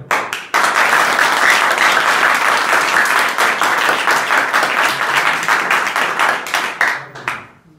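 A school audience at an inter college workshop bursts into loud, sustained applause, many hands clapping densely for several seconds before fading out.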